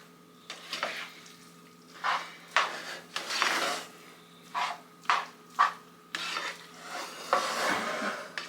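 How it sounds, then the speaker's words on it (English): A big bowl of homemade dog food made from chicken, egg and rice being stirred by hand, with a series of scraping, clattering utensil strokes against the bowl, close and fairly loud, no talking. "I'm going to end up with this huge bowl that I'm mixing in as I get all these ingredients in here"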